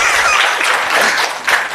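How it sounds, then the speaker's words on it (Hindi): Audience applause fills a hall at a Jeevan Vidya introductory camp in Bhilwara, a dense, steady wash of many hands clapping together for nearly two seconds with no voices. "इसके लिए तालियां हो जाएं।"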